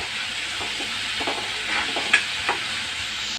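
Ginger-garlic paste fries in a pan with a steady sizzle and hiss, punctuated by a few sharp stirring clicks and scrapes, close by and without speech.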